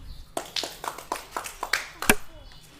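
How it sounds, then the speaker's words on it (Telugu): A short run of about eight hand claps from people during a children's catching game, fairly evenly spaced and ending on one louder, sharper clap. "క్లాప్స్."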